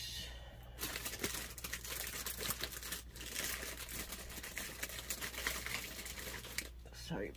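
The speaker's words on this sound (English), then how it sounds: "Sorry about the crinkling," Plastic packaging crinkles and rustles almost continuously, close up, while planner supplies such as folders and small discs are sorted, with dense crackly bursts throughout and a faint voice now and then.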